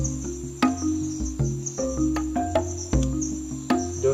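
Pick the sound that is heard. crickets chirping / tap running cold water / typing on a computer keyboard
crickets chirping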